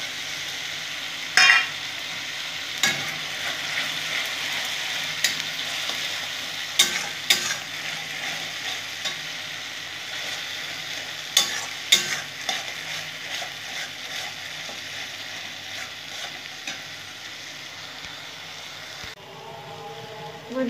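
Tomato paste fries in a pan with a steady close sizzle, punctuated by scraping and clacking as a spoon stirs it around.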